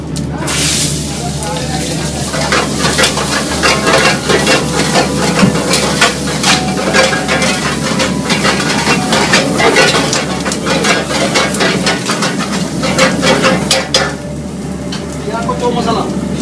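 Vegetables, capsicum and spices frying in hot oil in a kadai for kadai paneer at a restaurant kitchen, a steady loud sizzle with stirring scrapes throughout, briefly dipping near the end.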